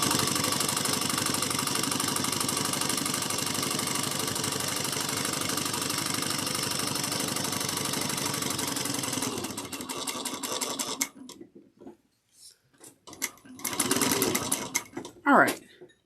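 A sewing machine runs steadily and close for a long stretch while stitching a bag, then stops; a few brief handling noises and small thumps follow in the quiet.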